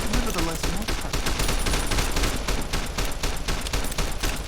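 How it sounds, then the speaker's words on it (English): Dense, rapid gunfire from Fallout: New Vegas, a loud continuous fusillade of overlapping shots with no break for the whole stretch. "Shooting guns is real scary"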